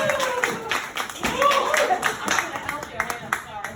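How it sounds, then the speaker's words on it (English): An audience at a magic show claps in applause, a short burst of many hands clapping close by, mixed with voices and cheers. "Big round of applause for Christine."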